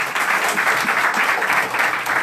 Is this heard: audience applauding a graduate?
yes